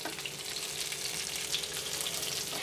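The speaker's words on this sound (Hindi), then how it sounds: "दो से तीन मिनट के लिए मीडियम फ्लेम पर पका लेना है हल्के हाथों से मैं चम्मच से हिला देती हूँ" Patra bhajiya, colocasia leaf rolls, fry in a pan of tempering oil over a medium flame while a spoon gently stirs them. A steady, dense sizzle continues evenly throughout with no talking.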